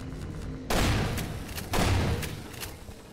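Gunfire in the video game Half-Life 2: two loud, close booming shots about a second apart, each decaying into a rumbling tail, with fainter cracks after.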